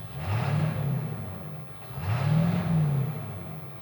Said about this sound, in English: So if I rev it